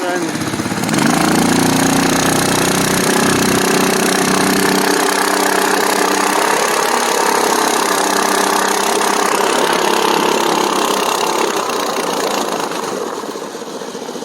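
Mud-skipper longtail boat engine churning through mud, a loud continuous buzzing drone with a rough knocking edge that holds steady close by and eases slightly at the end, with a voice talking over it.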